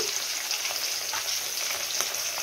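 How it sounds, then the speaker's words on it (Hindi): Fish pieces frying in oil, a steady crackling sizzle close by, with no talking. "माछ भजा होची माछ सब मो तेल रे छाड़ दउची"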